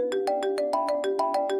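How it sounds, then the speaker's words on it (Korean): A telephone rings in an insistent electronic pattern at night, with rapid repeated tone bursts that continue without pause, loud and close, and no voices. "그날 새벽 미친 듯이 울리는 전화벨 소리에 잠에서 깨게 되었습니다"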